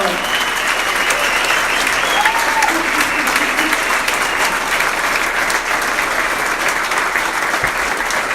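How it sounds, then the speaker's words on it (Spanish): A church congregation applauds loudly and steadily for over eight seconds, with dense sustained clapping and scattered voices and cheers mixed in. "Dale un fuerte aplauso al Señor."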